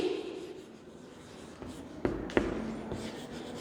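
A pen or pencil writing out the answer to a Class 4 maths time problem on paper, a soft continuous scratching with a couple of sharper taps, close and quiet, without talk.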